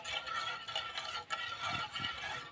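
Tea with sugar stirred in a pot, a soft, steady scraping and clinking of the spoon in irregular strokes, close and fairly quiet.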